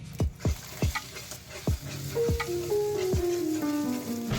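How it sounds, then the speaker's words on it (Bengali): Two eggs frying in oil in a wok give a steady, close sizzle, broken by a string of sharp spatula clicks and taps against the pan, with a faint tonal hum underneath. "এবার 2টো ডিম ফাটিয়ে কড়াইয়ে তেল দিয়ে ভেজে নিচ্ছি।"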